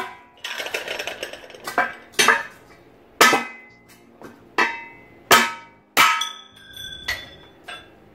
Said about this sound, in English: I guess I'll see if I can break these welds.